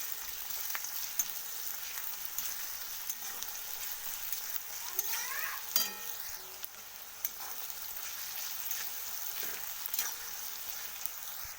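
Chicken pieces for chicken kanti fry in hot oil with a steady, faint sizzle and occasional stirring scrapes, close and continuous, with no talking.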